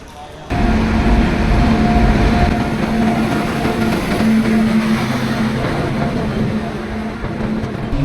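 Train at a railway station early in the morning, a loud steady rumble with tonal hum starting abruptly and continuing throughout, with faint voices in the background.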